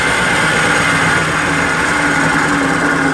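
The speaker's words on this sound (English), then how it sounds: "Because the back EMF is so powerful, it's actually running the motor." Electric motor running on its own back EMF, a loud steady whir with a constant hum throughout, close and unbroken, no speech.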